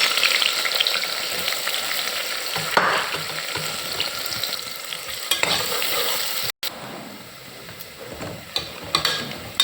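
Sliced onions fry with whole spices such as mace and stone flower in oil for a mutton curry, a steady close sizzle with scattered stirring scrapes and ticks and one brief dropout, no voices.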